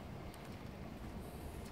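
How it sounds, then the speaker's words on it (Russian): Continuous dull rumble of trains passing near a railway bridge by a former military town in Jüterbog, a steady rolling roar without distinct clacks and no talk. "Зато мы видели, два поезда прошли"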